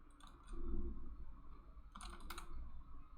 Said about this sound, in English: And let's type something.